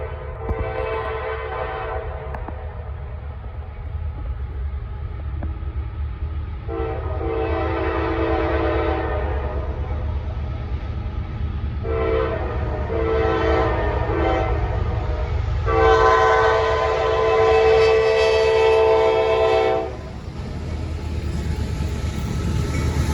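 A southbound freight train pulled by BNSF locomotives rumbles past on the Norfolk Southern Charlotte District, its horn sounding in several long blasts over the steady roll of the cars, loud and close.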